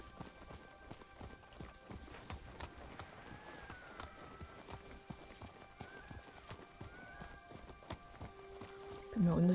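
Rhythmic hoofbeats of a galloping horse clatter through the Ghost of Tsushima game soundscape, with a faint musical tone and a louder burst near the end.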